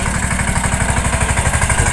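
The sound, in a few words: tractor engine running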